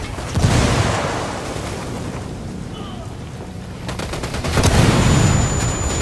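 Frag grenade blast and bursts of gunfire in the video game Ghost Recon Wildlands, with a loud explosive rumble near the start, sustained gunfire noise, and a second heavy boom swelling toward the end.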